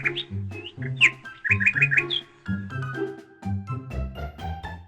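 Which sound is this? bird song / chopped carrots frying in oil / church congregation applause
bird song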